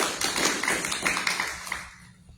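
An audience at an evening panel discussion on a voter-approved tax rate election gives a round of applause, a busy rapid clatter of many hands that holds steady, then thins and dies away into near quiet.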